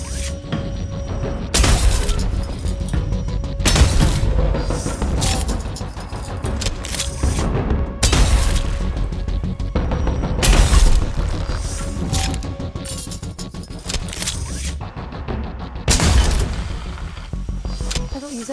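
A gun fires repeatedly in a dramatic film scene, each loud, sharp burst cracking out every couple of seconds over a dense, rumbling score and background noise.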